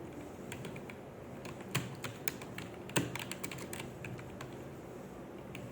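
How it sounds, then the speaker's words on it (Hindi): Fingers type on a computer keyboard, entering Hindi text, with irregular light key taps and a few sharper strokes, close and alone in a quiet room. "अब यहाँ से कीबोर्ड से अपना टाइप करते जाएं।"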